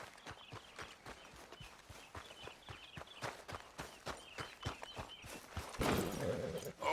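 Horse hooves in Red Dead Redemption 2 clip-clop in a steady trotting rhythm, close and fairly quiet, ending in a louder burst of noise.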